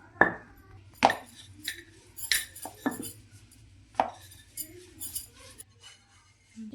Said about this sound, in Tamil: பூரிக்கட்டை வச்சு நகர்த்தி சின்ன சின்ன ரவுண்டாக போட்டுக்கலாம்.